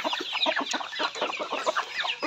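A native chicken rooster clucks repeatedly at close range in quick, uneven bursts, with short pauses between the calls.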